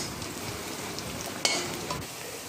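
Curry leaves and masala sizzle steadily in hot oil in a kadhai while mutton is being cooked, with a brief stirring scrape midway and no voices.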